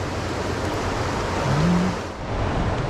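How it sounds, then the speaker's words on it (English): Strong water rushes steadily near a spillway, a loud broadband roar close by with no voices and only a slight swell midway. "that water's strong in here now"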